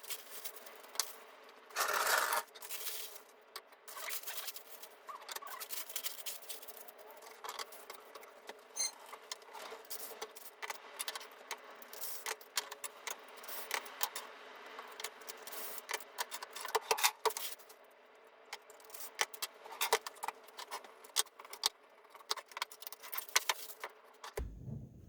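Clamps being loosened and removed from glued wooden rings and a bottom block, clattering metal clinks and rattles with scraping handling sounds, irregular and close, no talking.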